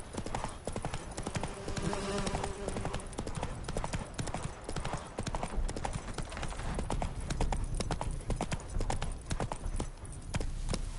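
Horse hooves clip-clop in a steady, brisk rhythm while being ridden, close and fairly loud throughout, with faint voices mixed in.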